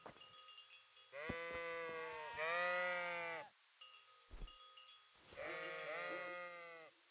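Sheep in Kingdom Come Deliverance bleat several times nearby, loud wavering calls in two clusters separated by a short pause, with a soft thud in between.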